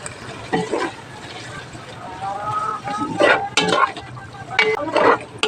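Marinated chicken liver sizzling in a pan while tomato paste is stirred in, a steady frying hiss with intermittent utensil scrapes and clinks up close, and a voice talking faintly at moments.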